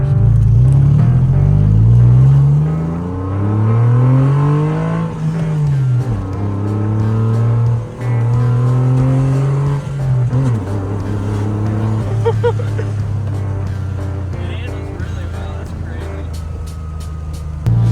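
A 1998 Porsche Boxster driven and accelerating, heard from inside: a loud engine hum that climbs in pitch through repeated gear changes, then settles into steady cruising with faint clicks.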